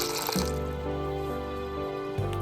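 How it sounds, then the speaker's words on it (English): Water pours steadily into a bowl of green peas set to soak for a crispy matar fry, a continuous close splashing fill with a brief change in pitch near the end. "Add water to soak."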